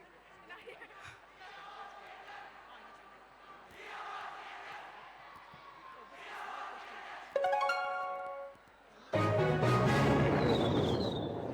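Students in a school fest audience at LA Fest 2024 break into loud cheering and shouting, a dense roaring burst near the end after quieter crowd chatter and a voice over a speaker system.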